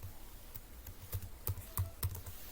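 Quiet keystrokes on a computer keyboard, a short uneven run of taps while typing in an office application, alone without speech.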